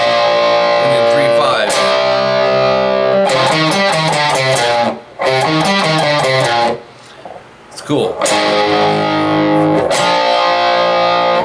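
A heavily distorted electric guitar churns through a chugging riff, loud and gritty, broken by two brief gaps where a voice speaks.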